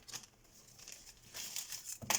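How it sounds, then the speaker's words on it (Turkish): Plastic bag being opened while unboxing an Aden E58 Pro 4K drone, soft crinkling and rustling in short bursts, close and fairly quiet, with a sharper crackle near the end. "İçinden bir tane de poşet çıkıyor. Açalım poşetimizi."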